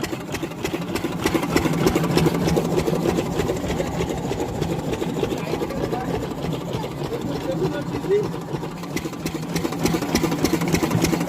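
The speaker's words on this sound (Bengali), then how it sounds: "এই যে মেশিন আছে এই মেশিন দিয়ে কাদাটা বানানো হয়" Engine-driven mud mixer at a brick-making site, a steady loud chugging drone that runs unbroken throughout.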